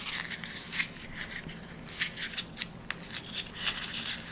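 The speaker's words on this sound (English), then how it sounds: "the next thing I'm going to do is take this and just crumple it up" Something is crumpled by hand as a vintage distressing technique, making close, crackly crinkles in short uneven bursts, with no voices.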